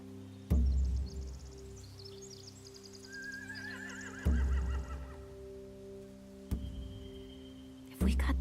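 Horses in The Walking Dead: The Final Season video game whinny in several loud, close outbursts with shrill trembling calls between them, over a low droning game score.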